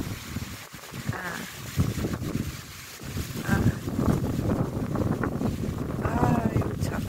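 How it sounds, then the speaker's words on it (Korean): Strong seaside wind blows hard with snow flurries, buffeting the microphone in gusting roars that rise and fall, while a person talks intermittently over it. "아, 엄청 바람이 불어요."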